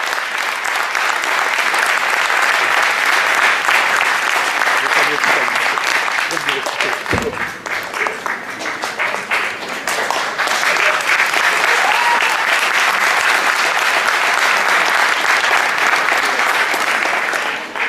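A large crowd at a 2017 Paris jamaat tournament ceremony applauds a club committee, dense steady clapping filling the whole span at full loudness, with a brief dip near the middle and voices mixed faintly underneath.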